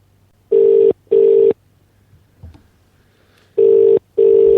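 A phone ringback on an outgoing call gives two pairs of loud, even electronic tones, a pause in between with faint rustling.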